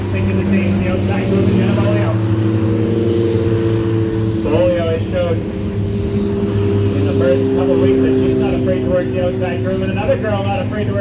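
Race cars roar down the front stretch of Star Speedway, several engines droning and layered at steady volume, with a race announcer talking over the engine noise throughout.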